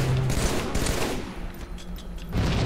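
Loud, dense gunfire in a battle royale shooter, rapid overlapping shots continuing throughout with barely a break and no talking.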